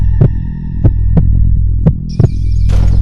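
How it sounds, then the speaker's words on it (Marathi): A heavy, deep heartbeat-style throb over a constant low hum, with about five spaced thumps and a rising eerie tone at the end, used as a horror-story sound effect. "आदितीचे काळीज धडधडायला लागले."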